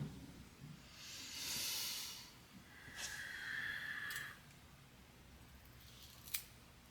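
Sharpened shears cutting hair, a few soft separate snips and swishes with brief hissing strokes, quiet and close with silence between them.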